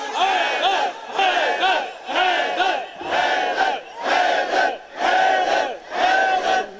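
A large crowd at a Rabi ul Awal religious gathering chants the slogan "Haidar" at full strength, roaring in unison in seven loud, rhythmic bursts about a second apart, with short dips between the shouts.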